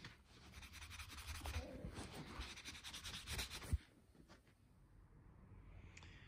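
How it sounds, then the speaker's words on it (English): Scouring pad rubbing rust off a Mercedes R107 rear hub: faint, close, back-and-forth scrubbing strokes for a few seconds, a sharp knock, then near quiet. "a scouring pad will get that old rust off both here and here"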